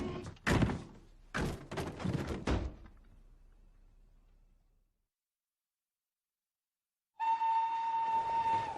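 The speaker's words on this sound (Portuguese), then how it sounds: "Próximo trem para Londres." A train at a railway station serving London, in a war film: several heavy door thunks and rumbling carriage noise that fade into silence, followed by a loud, sustained whistle-like horn tone.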